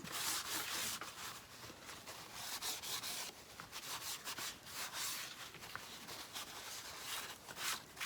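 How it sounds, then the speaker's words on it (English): A cloth wipes back a ResinCrete eco-friendly resin-alternative coating on wood, making a steady, close, continuous rubbing with slight surges and no voices. "I'm going to wipe that back just a little bit."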